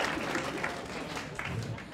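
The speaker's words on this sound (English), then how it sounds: "Round of applause, who here has spewed at a nightclub?" A comedy show crowd claps in a sustained round of applause, a dense even patter at moderate level with no voices standing out.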